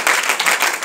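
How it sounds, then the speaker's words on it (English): A church congregation clapping their hands during a sermon, a brief burst of dense, fairly loud claps lasting under a second. "Oh, clap your hands to the Lord."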